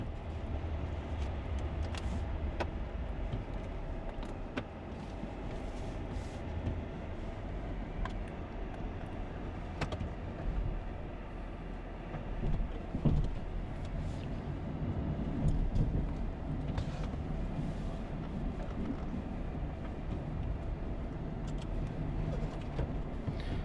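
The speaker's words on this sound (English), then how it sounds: "We're pulling up to our first driveway here" A snow plow truck fitted with a Boss DXT stainless V-plow pulls up to a driveway on a snowy hill: a steady, close engine rumble and road noise that runs throughout, with a few brief clunks and thumps and no talking.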